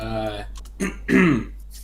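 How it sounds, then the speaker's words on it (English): A person clears their throat in a couple of short rough bursts, close and fairly loud, with voiced sounds around them. "gotta clear my throat for that one"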